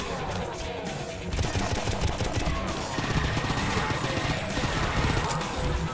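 Dense, continuous rapid-fire gunfire from the video game Painkiller, loud and sustained for several seconds with overlapping shots and crashing impacts, mixed with game effects and no pause in the barrage.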